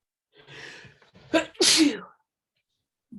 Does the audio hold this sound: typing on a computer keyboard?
no